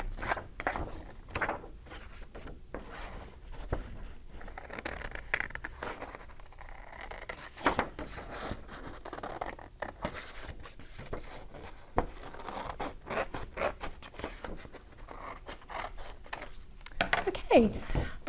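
Scissors snipping through laminate around a page tab on a communication page, a series of close, soft crunchy cuts and scraping strokes under continuous talk.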